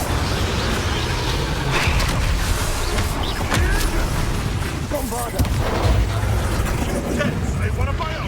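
Bombarda spell explosions in the Hogwarts Legacy video game, a dense, loud roar of booming blasts and crackling debris layered with game music and effects that runs without a break.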